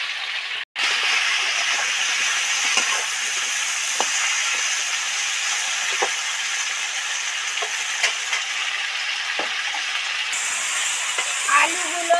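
Potato and vegetable pieces fry in hot oil in a pan, with a steady loud sizzle and hiss throughout and scattered faint clinks of stirring, with a brief break near the start.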